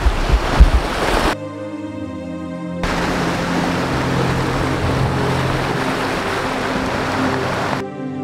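Sea waves washing on a beach at Jebha, a steady, loud surf wash mixed with wind noise on the microphone, with a droning engine-like hum cutting in during parts.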